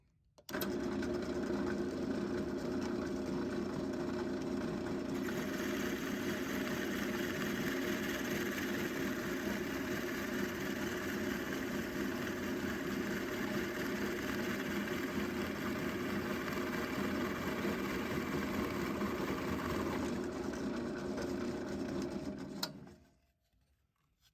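Corded drill driving a 3/4 inch spade bit through pine, a steady loud whirring drone held for about twenty seconds before winding down.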